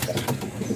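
Pigeons being paired by a handler coo softly in a loft, a few low rolling coos close by with some faint background noise.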